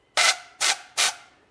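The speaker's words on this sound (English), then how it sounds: "Then I will take compressed air and I will blow out the bolts." Compressed air blown through BMW N54 engine bolts comes as three short, loud, hissing blasts at even intervals, each cut off sharply and followed by silence.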